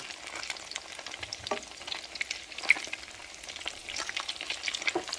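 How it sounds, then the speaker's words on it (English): Salmon croquettes frying in a pan give a steady, close crackling sizzle with scattered pops throughout, moderately loud and with no voices. "Once I flip them, I just let them cook another minute or two."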